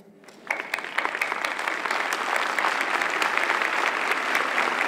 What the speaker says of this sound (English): Let's welcome Supreme Master with a warm round of applause.